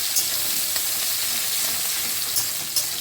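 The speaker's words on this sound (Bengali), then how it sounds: "এই অবস্থায় আমি কেটে রাখা কুচি করে রাখা পেঁয়াজটা এখানে দিয়ে দিলাম। পেঁয়াজটাকে আমি এবার ভাজা ভাজা করবো।" Chopped onion frying in hot oil in a home kitchen, a steady bright sizzle hissing continuously at close range with a few small pops and spatters, no voices.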